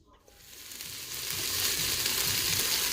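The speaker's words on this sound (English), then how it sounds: "I've got my my Instant Pot, focus please, on saute more, and I'm just waiting for it to heat up before I go ahead and sweat off these veggies" Vegetables hit hot oil in an Instant Pot on the sauté setting, and the sizzle rises quickly from near silence into a loud, steady crackle that holds to the end, with no one talking.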